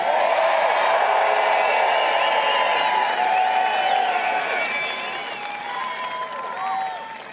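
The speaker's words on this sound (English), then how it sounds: "a round of applause for President Trump" A crowd applauds President Trump with loud, steady clapping mixed with scattered cheers, fading slightly toward the end.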